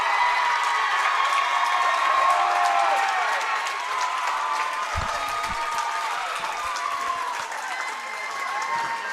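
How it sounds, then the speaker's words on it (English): A gymnasium crowd at a boys' 8th grade school basketball sectional final applauds and cheers, dense sustained clapping with shouts mixed in, loud and steady throughout, easing slightly near the end. "Give a big round of applause to both these teams."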